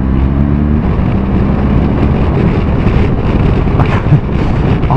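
A BMW GS1200 Adventure TE motorcycle engine pulls under acceleration on the road, a loud continuous drone heavily mixed with wind rush at the microphone, with no talking.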